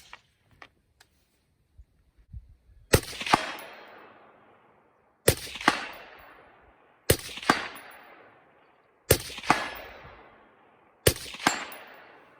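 A rifle fitted with a Bowers suppressor and Griptastic suppressor cover fires five sharp, loud shots spaced a second or two apart, each followed by a short ringing decay, after a few faint handling clicks.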